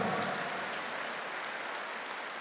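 Church congregation applauding during a sermon, a steady broadband wash of many hands clapping, fairly quiet and distant, with no voices over it.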